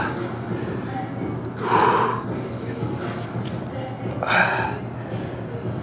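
Heavy breaths during a quad stretch in a home workout, two strong exhalations rising clearly above a steady low room hum, close and fairly loud with no talking.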